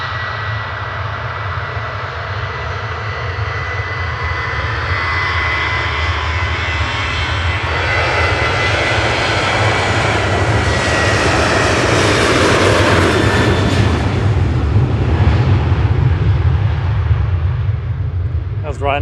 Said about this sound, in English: That was Ryanair to Dublin